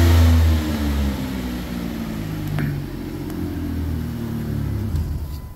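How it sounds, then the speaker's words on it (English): A minivan engine with an exhaust leak gives a loud rumble that surges briefly under load, then holds a rough, throbbing drone with a raspy edge, close by. "And it gets worse under acceleration, like when the engine's under load."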